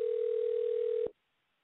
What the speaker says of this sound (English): And as that phone rings